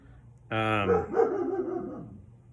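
A single sharp dog bark close by, followed by a brief whiny trailing yelp, then quiet.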